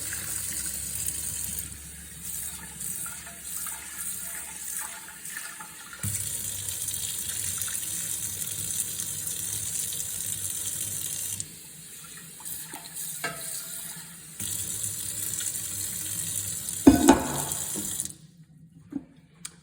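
Water runs and splashes steadily into a kitchen sink as cooked rice is drained, pouring in long stretches broken by brief pauses and ending in a clatter before near silence.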